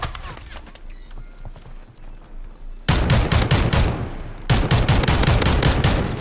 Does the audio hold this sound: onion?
no